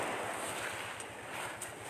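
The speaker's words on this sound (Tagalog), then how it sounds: "Ang sarap pakinggan ng hampas ng alon." Ocean waves wash against the Marinduque shore under a steady, hissing wind-blown roar, with soft rhythmic low surges and no talking.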